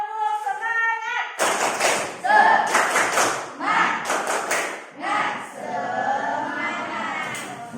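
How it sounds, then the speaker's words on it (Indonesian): A class of schoolchildren performs a rhythmic spirit clap together, loud close clapping in patterned bursts with thuds and chanted voices mixed in, following a short teacher's voice at the start. "ayo bersama-sama kita tepuk semangat"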